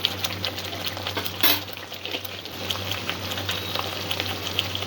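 Spices stirred into prawn pulao in a frying pan: a steady bed of sizzling with soft scraping throughout and one louder knock of the spoon about a third of the way in.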